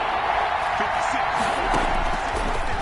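Stadium crowd noise in a football video game builds before a big third down, a steady wash of cheering and roar with faint whoops, continuous and fairly loud.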